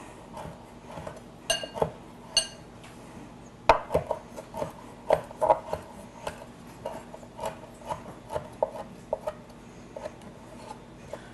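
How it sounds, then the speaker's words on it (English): Rosemary being chopped with a kitchen knife on a board, a series of sharp irregular knocks that come in bursts, close and fairly clear over a quiet background. "let me grab my knife here. Just want to chop it up good"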